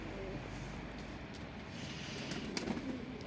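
Posta breed pigeons cooing softly in a loft, low murmuring calls running steadily through a hissy background with a few brief louder coos near the end.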